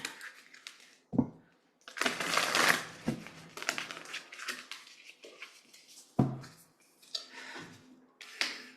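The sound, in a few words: tarot cards being shuffled and drawn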